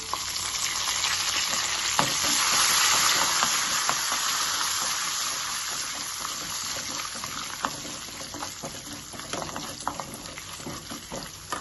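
Garlic and curry leaves fry in hot oil in a pan for a coconut tomato chutney, giving a steady, dense sizzle that swells early and stays continuous, with scattered light clicks and stirring scrapes throughout.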